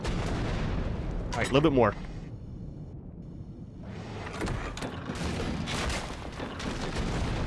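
Cannon blasts from an X-Rock Elemental firing cannonballs in ARK: Genesis, set in a volcano: one loud burst with a rising, warbling tail early on, then rumbling game ambience and scattered impacts under brief talk.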